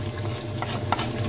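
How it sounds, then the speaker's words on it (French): Onions browning in a pan for a beef and carrot stew give a soft, low sizzle, with light scrapes and clicks as they are stirred. The sound is quiet, close and brief. "vous prenez vos oignons, vous les faites dorer dedans"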